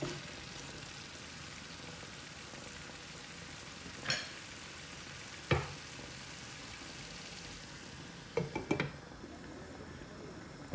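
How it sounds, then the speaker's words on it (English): A low steady sizzle of chicken frying in a pot fills the background while a utensil scrapes and knocks against the pot a few times as it is stirred. "give it a mix, stir it nice and properly"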